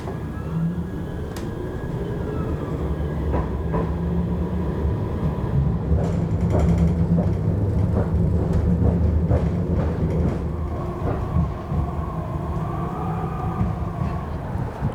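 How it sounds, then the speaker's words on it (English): A Manchester Metrolink tram on the Eccles line heading toward Broadway rumbles steadily from inside the car, with low droning hum, rising motor whine and rattling as it travels, loud throughout. "I'm going to take a tram to Broadway"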